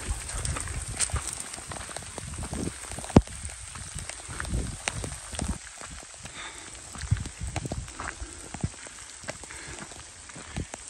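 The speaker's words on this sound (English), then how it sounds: "Hopefully the rain stops." Rain and hail patter during a hike, scattered sharp drops and taps landing close by over a steady wet hiss, with occasional louder hits.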